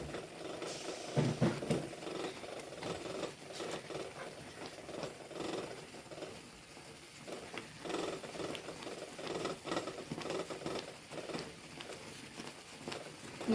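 Jackfruit filling stirred with ghee in a pan, giving faint, continuous soft scraping and sizzling textures with irregular stirring strokes throughout.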